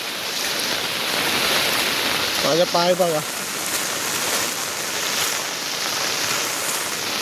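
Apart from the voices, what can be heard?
monsoon floodwater flowing on a flooded road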